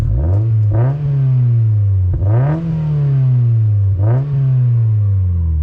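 A 1.8-litre Mazda MX-5 NB facelift sports car engine revs up three times in strong, close bursts, each rise falling back to a rumbling idle between.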